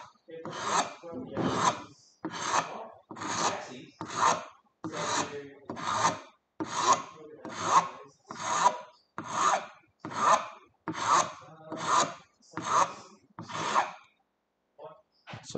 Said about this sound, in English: And sharpening up the edges.